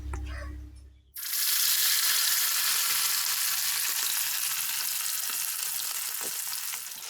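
Marinated quail pieces drop into hot oil and deep fry with a loud, steady, close sizzle and crackle that fills the clip after a brief quiet start, with occasional faint clinks.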